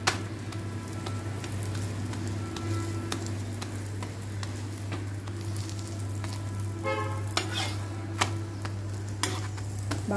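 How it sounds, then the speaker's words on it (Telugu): Green pea paratha frying on a hot pan, a steady close sizzle with a few light taps and scrapes of a utensil against the pan, no talk. "ఇది మూడో పరట వేస్తున్నానండి"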